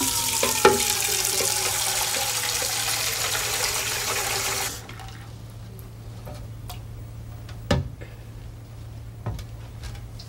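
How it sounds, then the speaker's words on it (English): Tap water pouring into a glass, a steady bright rush that stops abruptly partway through, followed by quiet clinks and small knocks of glassware. "Fill it with water."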